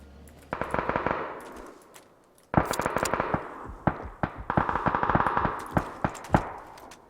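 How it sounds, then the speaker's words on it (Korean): Rapid bursts of automatic gunfire in PlayerUnknown's Battlegrounds (PUBG), two long volleys separated by a short pause, loud and close. "여기 총소리"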